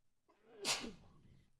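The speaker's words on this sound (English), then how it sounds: "I got to sneeze real quick." One man sneezes once, a short sharp burst with a breathy intake just before it, close to the microphone and fairly quiet overall.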